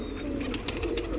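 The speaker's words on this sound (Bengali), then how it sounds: "সবগুলা পাকিস্তানি হাই ফ্লাইট কবুতর" Pakistani high-flying pigeons coo softly in a low, steady murmur over faint background hiss, with a few brief, light sounds scattered through the short stretch.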